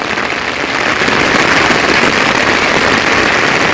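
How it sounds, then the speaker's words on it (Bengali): Steady, dense rain falling during the rainy season in rural Bangladesh, a loud continuous hiss and patter that runs unbroken throughout with no voices. "অনেকদিন পর বৃষ্টি নামছে তো ভালো লাগতেছে"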